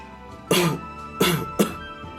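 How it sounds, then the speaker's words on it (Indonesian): Three sharp, loud coughs in quick succession, close to the microphone, with a throat-clearing quality and short pauses between them. "tiba-tiba saja ia batuk keras."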